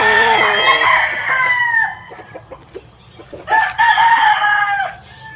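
Chickens and a rooster at a coop crow loudly and nearby, long drawn-out calls repeating over steady low clucking and farmyard background.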